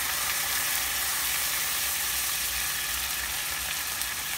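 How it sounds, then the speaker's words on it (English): White wine hits a hot pan while deglazing for sun-dried tomato pasta, giving a steady, loud, hissing sizzle that holds evenly throughout, close up and without talk. "And I'm going to deglaze with white wine."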